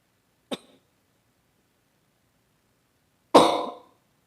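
Two coughs, a short light one followed a few seconds later by a louder, harsher cough, close up with silence between.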